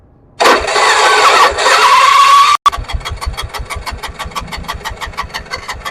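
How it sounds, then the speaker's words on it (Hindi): A car's starter motor whirs steadily for about two seconds, then the engine catches and settles into a loud, even, rhythmic idle close by. The car has a gas injector. "अब मैं गाड़ी को क्रैंक करता हूँ, गाड़ी में सेल्फ लगाता हूँ"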